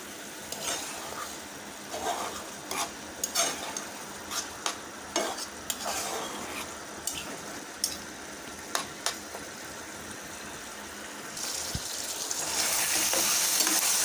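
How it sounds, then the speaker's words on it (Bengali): Spice paste loosened with a little water sizzles with beef fat in a pan for khichuri, as a spoon scrapes and clacks irregularly against the pan. The sizzle swells louder toward the end. "মশলাটা কষানোর জন্য দিয়ে দিয়েছি অল্প করে পানি, দিয়ে দিচ্ছি গরুর চর্বি"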